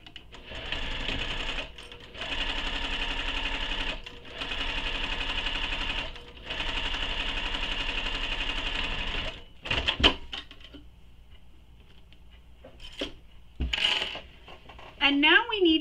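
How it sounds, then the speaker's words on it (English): A sewing machine stitching along the lining edge of a sling pack, in several steady bursts of running stitches separated by short pauses, followed by quieter handling clicks and rustles. "So now we're going to sew along this edge using the seam allowance given in the pattern."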